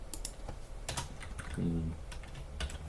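Typing on a computer keyboard, heard as quiet, irregular clusters of clicks and taps over a soft background.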